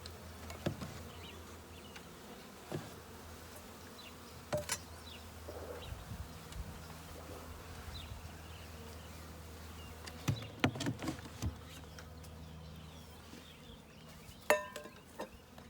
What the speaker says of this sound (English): So here's 3 pounds of bees.